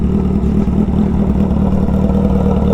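A Kawasaki ZX10R motorcycle idling close by, a steady low mechanical rumble with a faint ticking clatter, even and unbroken throughout.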